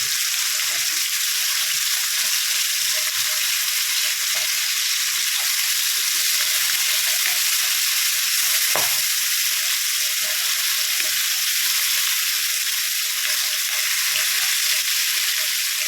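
Sardines fry in hot oil in a pan, a steady, dense, loud sizzle running unbroken throughout, with one brief sharp knock partway through and no talking.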